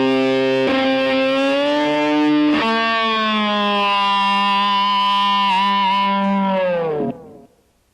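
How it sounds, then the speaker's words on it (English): Electric guitar tapping lick played with the whammy bar pulled up a whole step: a long, heavily distorted sustained line with a few re-attacks and wavering pitch, ending as the bar drops and the note cuts off. "Now since the bar is already up a whole step, that means when you're actually hitting a G right here"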